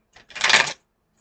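A short, dense riffle of crisp papery clicks, a brief tap followed by about half a second of rapid fluttering, then quiet.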